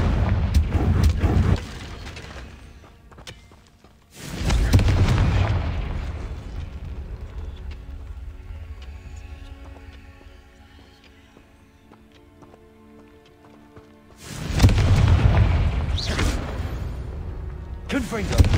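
Loud booming fire-spell explosions in the Hogwarts Legacy video game, arriving as two heavy bursts separated by a quieter stretch of game ambience and music.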